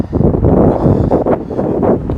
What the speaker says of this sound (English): oh, that is windy.